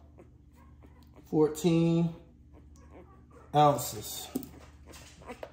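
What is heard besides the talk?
nine-day-old puppy whimpering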